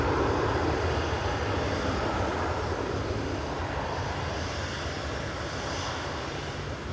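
An EasyJet airliner departing Manchester Airport for Paris Charles de Gaulle produces a steady, moderately distant engine roar that eases off slightly as it moves away, with no voices.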